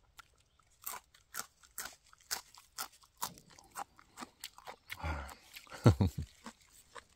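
Crunchy chewing of a freshly picked wild mountain herb whose broken stem oozes white milky sap, gathered in the Danyang hills; several close crisp bites and chews in an irregular rhythm, loudest near the end.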